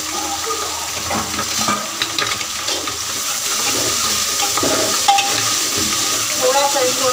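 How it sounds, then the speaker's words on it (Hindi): Onion and tomato sauté in a pan for an egg dish, a hissing, watery sizzle heard close with occasional stirring scrapes and clinks throughout. "थोड़ा सा इसको भूनूंगी।"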